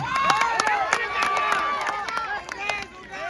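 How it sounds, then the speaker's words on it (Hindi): Crowd at a rural village kabaddi final cheers and claps, a lively wash of shouting voices and scattered applause filling the air, fairly close and loud throughout. "इनके लिए एक बार जोरदार ताली।"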